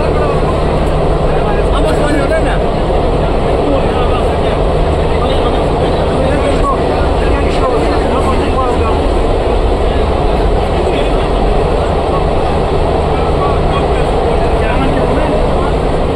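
Interior of a moving, crowded local train: a steady, loud, unbroken rumble and rattle of the carriage running at speed, with voices faintly audible beneath it.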